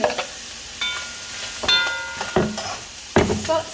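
Chopped onion goes into a hot frying pan for a sauce, sizzling in short bursts with clinks and scrapes of stirring between them, close and moderately loud.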